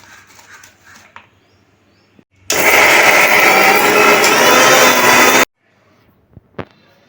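An electric blender grinds raw garlic and onion into a paste, a loud steady whirring roar lasting about three seconds that starts and stops abruptly, with quiet kitchen clatter before and after.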